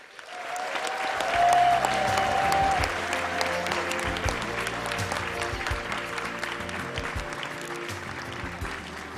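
A large audience applauds after a commencement speech at a graduation ceremony, a dense, sustained wash of clapping with a faint tone, continuing at steady volume throughout.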